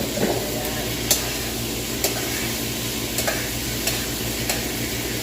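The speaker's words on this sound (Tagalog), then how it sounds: "Kailangan ma-brown po yung aking karne." Meat browning in a pan gives a continuous loud sizzle, while periodic sharp scrapes and clinks of a utensil stirring against the pan come through up close, with no talk.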